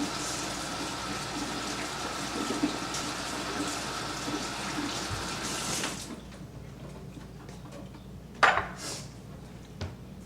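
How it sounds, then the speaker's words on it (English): Steady running tap water splashes over fresh peppers in a home kitchen sink for several seconds, then stops, leaving a quieter room with a couple of light knocks and clatters. "You want to wash it off."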